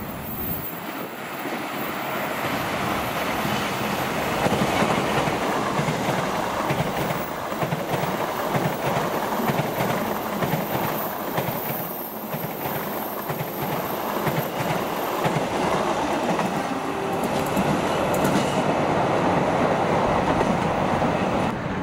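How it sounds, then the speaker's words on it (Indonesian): An Argo Cirebon passenger train rolls past at Bekasi Timur, Indonesia, a loud continuous roar of wheels on rail with clickety-clack and occasional squeal throughout, close by and without talk. "akhirnya baik lagi rangkaian kereta api Argo Cirebon"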